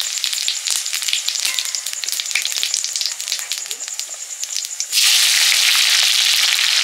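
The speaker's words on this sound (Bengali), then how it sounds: "ফোড়ন দিচ্ছি শুকনো লঙ্কা" Dried red chili and cumin seeds crackle and spit in hot oil, a dense run of sharp pops over a steady hiss that swells into a louder, fuller sizzle near the end.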